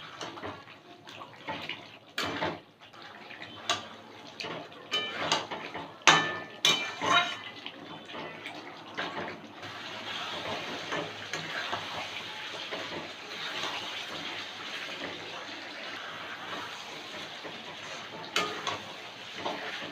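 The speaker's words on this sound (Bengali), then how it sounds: "এবার ভালো করে কষিয়ে নেব" Chicken pieces with yogurt and a little sugar stir-fried in a pan, with a steady close sizzle and irregular scraping stirs, louder bursts early on, then a continuous frying hiss.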